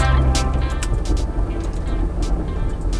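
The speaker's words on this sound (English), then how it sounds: "Because that's what's wrong with my engine." A faulty car engine runs with a steady, rough low rumble and a few sharp higher clicks, heard up close with no talking.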